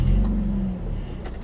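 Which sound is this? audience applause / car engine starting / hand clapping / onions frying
car engine starting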